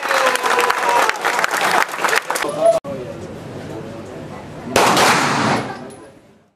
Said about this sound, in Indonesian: kegiatan menembak pistol di lapangan tembak pistol